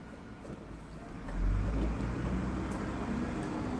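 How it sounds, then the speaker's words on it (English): Buses pass outside a museum, their muffled engine rumble faint and distant, swelling slightly partway through and then holding steady. "Can you hear the buses, by the way?"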